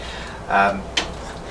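A copier finisher drawer is slid open or shut in one brief mechanical burst, followed by a short sharp knock as it settles, with low room noise around it.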